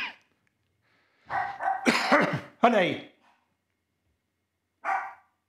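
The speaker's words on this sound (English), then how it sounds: "excuse me, the dog barking." Dog barking in a home recording studio, a short cluster of loud nearby barks followed by one more bark after a pause, with a person calling out between them.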